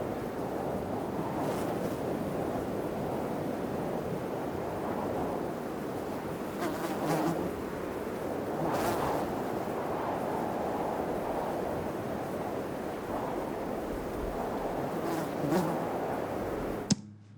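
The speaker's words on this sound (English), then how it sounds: "I like this wind, but it has a fly that's kind of buzzing around." A fly buzzes close to the microphone, droning in and out over a steady rush of wind.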